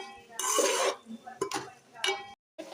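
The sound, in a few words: frying ivy gourd with curry leaves in a pan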